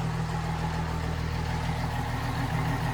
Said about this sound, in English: Definitely hear some more valve noise.